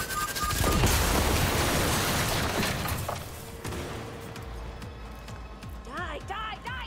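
Gunfire in Cyberpunk 2077 Phantom Liberty bursts in rapid, loud bangs with a pistol among the weapons, then gives way to quieter combat noise and chirping electronic game effects, with shouting voices over it.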